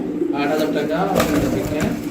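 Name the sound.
pigeons cooing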